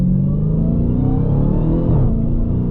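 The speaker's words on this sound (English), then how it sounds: "that supercharged whine. When you hear it in the videos, it is just as good in person." A supercharged Dodge Hellcat Jailbreak engine accelerates with a loud, steady roar and a rising supercharger whine that climbs in pitch before easing off near the end, close and continuous with no talk.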